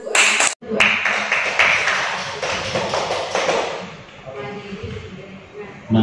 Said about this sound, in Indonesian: Tepuk tangan untuk Bu.